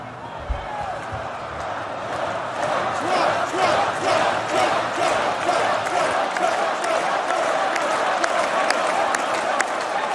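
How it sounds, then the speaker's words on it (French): Sustained applause from a large crowd at a Donald Trump speech, dense steady clapping throughout with occasional louder claps, no speech over it. "Merci pour ces applaudissements."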